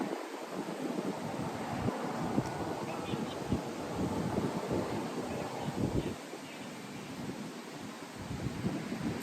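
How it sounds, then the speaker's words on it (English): Strong wind roars and thumps against the microphone in heavy, uneven gusts, with a dense rumbling hiss that swells and eases throughout. "See, told you it's windy, man. It's windy out here."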